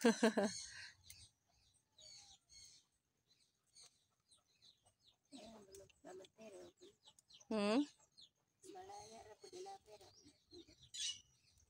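Chickens cluck close by in short, scattered bursts, with one louder squawk midway and a few quieter calls around it.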